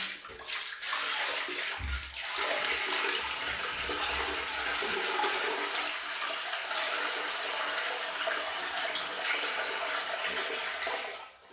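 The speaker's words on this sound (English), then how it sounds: "we'll watch the rusty water go down" Rusty, sediment-laden water draining from a water heater into a bucket and toilet, a steady rushing hiss of flowing water that starts with a short thump and runs continuously at an even level before cutting off near the end.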